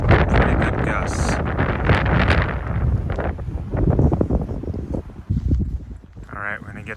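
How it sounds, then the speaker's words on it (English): Strong wind gusts after a blizzard in Tahoe buffet the microphone loudly and continuously, with people talking underneath. "Aren't as crazy as last night, but they're still pretty good gusts."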